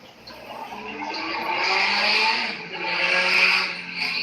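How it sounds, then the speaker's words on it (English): A loud car passing in nearby traffic, its engine roar swelling in two broad surges with a squealing, tire-like edge, heard clearly with no talk over it. "That was a loud car."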